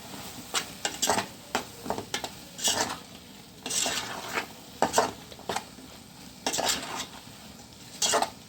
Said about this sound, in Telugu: ఇందులో కట్ చేసి పెట్టుకున్న బెండకాయలు వంకాయలు టమాటా అన్నీ వేసేసుకుని మనం బాగా మిక్స్ చేసుకుంటామండి